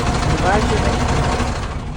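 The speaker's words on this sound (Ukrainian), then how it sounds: "Так у нас машинка запустилась. 440-й двигун у нас тут, до речі." A truck with a 440 engine idles just after starting, a steady low rumbling drone that holds even and loud throughout.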